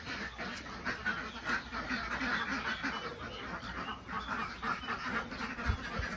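Khaki Campbell laying ducks quack faintly in a pen, giving scattered, distant calls over a soft background murmur.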